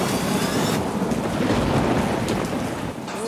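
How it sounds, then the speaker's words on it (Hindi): Roaring floodwater from a swollen river in Himachal during heavy monsoon rains, a loud, continuous broadband rush with steady churning and wind-like noise throughout, no voices. "नदियों का शोर हिमाचल में तबाही का ऐलान कर रहा है।"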